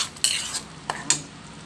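Chicken curry with camote in a pan being stirred by a utensil, a few distinct scrapes and clinks against the pan over a soft simmering background, close and fairly quiet, no talking.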